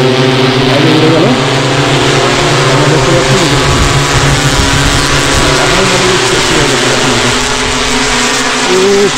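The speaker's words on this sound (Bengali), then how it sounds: "আমার এই বাগানে প্রথম ড্রোনের সাহায্যে স্প্রে দেওয়া হচ্ছে।" An agricultural drone sprays pesticide over a garden, its rotors producing a loud, steady, droning buzz with a constant pitch that holds close and unbroken for the whole stretch.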